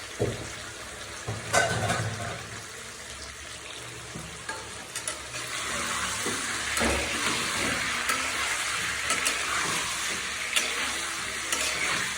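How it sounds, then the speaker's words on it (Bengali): Pieces of broiler chicken fry in oil, with a close, continuous sizzle, scattered spatters and occasional stirring scrapes, at a moderate level and without talk. "আমি মাংসটা তেলে ভেজে নিচ্ছি।"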